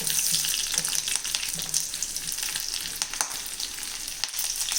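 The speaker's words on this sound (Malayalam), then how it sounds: "ഇതിലേക്ക് നമുക്ക് പച്ചമുളകും വറ്റൽമുളകും ഇട്ട് കൊടുക്കാം. 2 പച്ചമുളകും 2 വറ്റൽമുളകും." Green chillies and dried red chillies sizzling in hot oil while a Kerala dal curry with drumstick leaves is being made, a steady close crackling fry with occasional stirring clicks.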